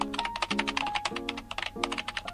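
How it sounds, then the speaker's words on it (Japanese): Rapid, steady keyboard typing from the otome game Stand My Heroes, a close, dense run of clicking keystrokes that carries on without pause and with no talk over it. "今日も気合入ったタイピングだなと思って見てただけ"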